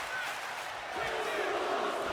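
Crowd cheering in the WWE 2K25 video game during a Monday Night Raw match featuring Jey Uso, a steady roar of arena noise that swells slightly louder in the second half, continuous and broad.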